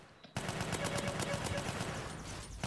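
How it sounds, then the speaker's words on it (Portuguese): Rapid automatic gunfire from a GTA San Andreas multiplayer roleplay game, a dense continuous burst of shots that starts abruptly after a brief silence and stays loud throughout. "É muito tiro por segundos"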